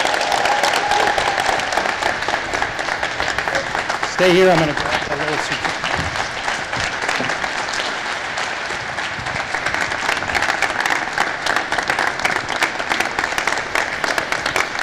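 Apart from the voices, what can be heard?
audience applause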